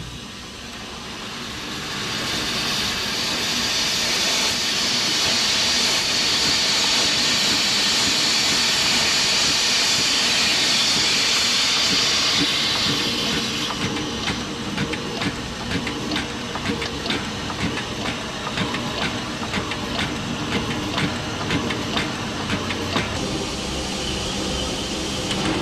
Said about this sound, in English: the fireman turns the air pump on and starts building some air pressure.